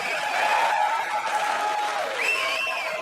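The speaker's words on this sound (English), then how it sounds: "There's a reason people are cheering." Live stand-up comedy audience cheering and applauding, a steady dense wash of clapping and whoops filling the room, loud and close throughout with no pauses.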